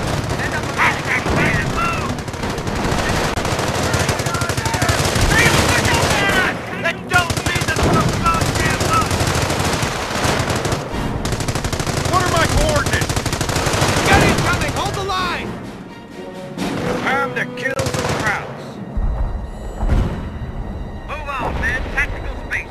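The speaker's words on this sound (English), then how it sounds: "Base is under enemy fire" Machine gun fire rattles across a base under attack in the Company of Heroes battle at Mortain, dense bursts and scattered gunshots layered with rumbling explosions, loud and continuous, while voices speak over the combat.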